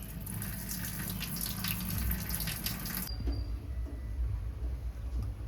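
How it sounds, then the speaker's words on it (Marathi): Running water from washing bitter gourd at a sink, a steady broadband wash for about three seconds that then drops to a quieter trickle and drain. "आणि हे ह्यातलं पाणी सगळं काढून घ्यायचं."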